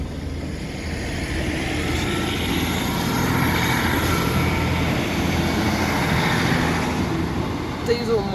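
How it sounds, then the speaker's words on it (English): Class 150 diesel multiple unit 150-139 rumbles past the Woburn Sands level crossing in Buckinghamshire, a loud, broad engine and wheel roar that swells toward the middle and holds through the end. "Diesel multiple unit"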